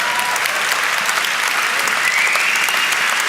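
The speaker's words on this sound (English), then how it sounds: "Let's first of all clap it up for all the youngsters in the room." An audience applauds young people standing in a room at a motivational talk, steady dense clapping throughout with a faint crowd murmur, no voice on top.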